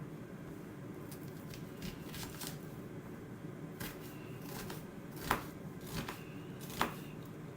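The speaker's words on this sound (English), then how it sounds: "I start with slicing them" A knife slicing onions on a board, soft repeated cuts and shuffling taps at close range with a few sharper clicks, quiet and without talk.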